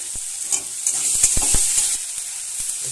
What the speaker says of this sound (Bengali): এবার এই তেলের মধ্যেই আমি 5 ফোড়ন কাঁচা লঙ্কা দিয়ে দিলাম